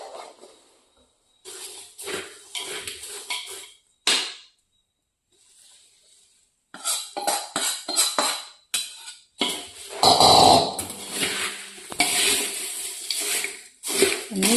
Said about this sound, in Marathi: त्यामुळे आपण आता हे तयार झालेलं मिश्रण आपण पोह्यामध्ये ओतूया.